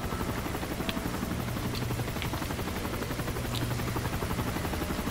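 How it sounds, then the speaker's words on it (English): A helicopter flies in the Call of Duty: Modern Warfare 3 video game, its dense rotor chop pulsing steadily and loudly for several seconds with faint clicks above; no voices. "Helicopter's coming."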